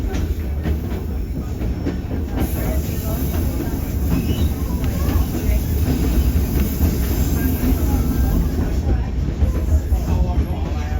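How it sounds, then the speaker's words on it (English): A White Pass railroad train rumbles steadily across a mountain bridge, heard loud and close from on board, with continuous wheel roar, faint clatter and occasional squeal. "be ready for that iconic photo of the train crossing the bridge and snaking its way along the mountain"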